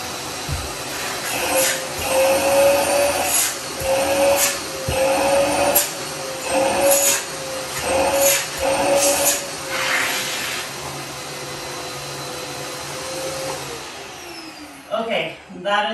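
A Eureka bagless canister vacuum cleaner runs close by with a loud, steady whine and airflow roar for about fourteen seconds, then shuts off, leaving brief handling noises.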